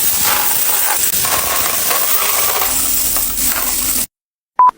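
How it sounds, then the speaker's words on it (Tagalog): A large pile of coins from coin-slot machines being poured and shuffled, a dense continuous metallic clinking and rattling that runs loud and close for about four seconds, then stops, followed by one short isolated clink. "Kasi sobrang daming barya neto."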